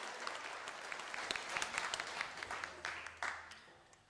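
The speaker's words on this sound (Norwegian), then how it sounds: "vi kan godt gi en klapp for Jesus" A church congregation at a Saturday song meeting breaks into applause, a dense burst of many hands clapping that swells, then gradually fades over a few seconds.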